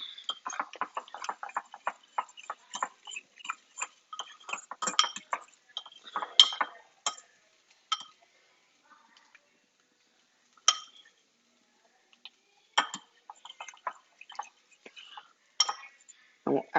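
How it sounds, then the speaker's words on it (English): Eggs whisked for an omelet, with a fork clinking quickly and lightly against a bowl in dense bursts at first, then sparser taps and pauses, close and fairly faint. "We'll whisk up our third omelet."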